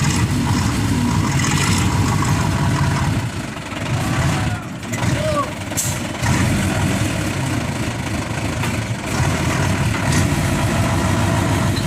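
A Hino 12-wheel truck engine idles with a loud, continuous low rumble. People talk nearby and the engine level dips briefly partway through.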